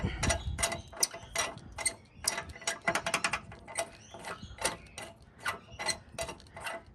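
A locking trailer hitch pin is unscrewed, giving a close series of quick metallic clicks and ratcheting ticks in uneven bursts, with no talk.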